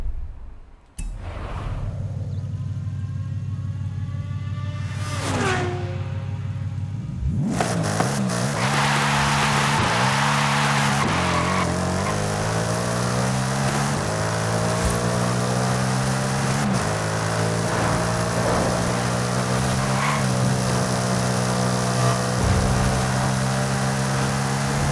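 A tuned 1900-horsepower 2024 Ford Mustang in Forza Horizon 5 starts up loud and close, then revs repeatedly in rising and falling surges, its engine note climbing steadily with no one talking over it.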